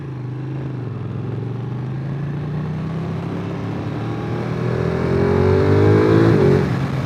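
A Ducati 959 Panigale sportbike engine heard from the rider's position, droning steadily and then rising in pitch as it revs harder toward the end before easing off, loud and continuous with no talking.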